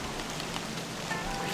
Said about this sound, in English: We've got a bunch of rain ever since this morning, ever since we came in.